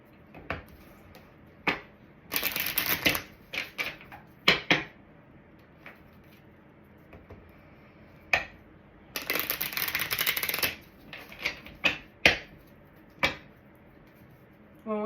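Tarot cards being shuffled and drawn, two bursts of riffling flutter separated by scattered sharp taps and slaps of cards laid down, close and fairly quiet.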